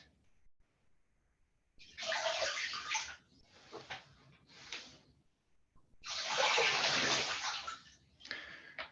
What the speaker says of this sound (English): Let's wash our feet.